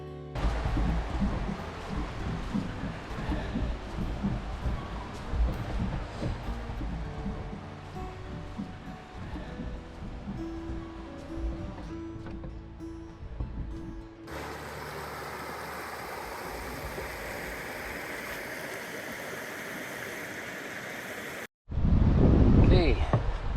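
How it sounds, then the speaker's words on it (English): Rushing water of small rapids on Maple Creek in Algonquin Park in spring, a steady broadband roar. It swells in the middle after mechanical clicking and knocking, then ends in a brief loud burst. "sounds of rushing water up ahead"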